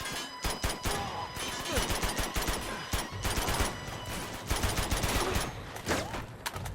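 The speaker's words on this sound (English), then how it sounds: "Oh, I'm getting shot at." Enemy gunfire crackles almost nonstop in the action game Uncharted 2 Among Thieves: dense, rapid automatic bursts and single shots overlap at fairly close range with no pauses.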